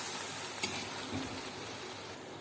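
Hot fried rava gulab jamuns drop into sugar syrup with a continuous close sizzling hiss and a few soft plops and stirring clinks.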